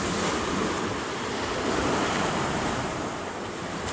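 Strong wind blowing by the sea in Jamaica, a steady loud roar with buffeting against the microphone and surf washing underneath, no voices.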